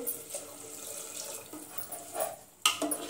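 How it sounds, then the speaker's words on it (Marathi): Water splashes and gurgles into a pot in a few uneven bursts, close by, with a sharper splash near the end. "इथे आपण साधारण 2 ग्लास पाणी टाकून घेऊ"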